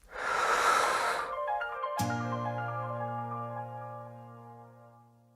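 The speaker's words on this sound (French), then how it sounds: "Inspirez. Expirez. Inspirez encore." A single loud, breathy inhale and exhale, followed by a clear ringing chime that slowly fades out. No one speaks.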